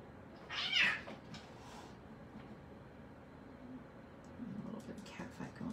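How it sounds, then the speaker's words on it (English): A brief burst of cat yowling and meowing from a cat fight rises near the start, then fades into a quiet room with soft background noise and faint further cries near the end. "A little bit of cat fight going on."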